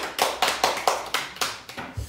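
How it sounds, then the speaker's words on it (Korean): Applause from a small group at the start of a live broadcast: a short run of sharp, evenly spaced hand claps, about eight in two seconds, close and fairly loud with no talking. "박수."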